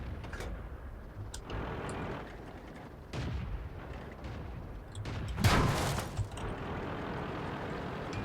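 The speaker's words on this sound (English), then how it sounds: "Apparently he got the memo because he shot at me." Tank cannon fire in World of Tanks, several heavy booming shots over a constant engine rumble, with one louder blast near the end.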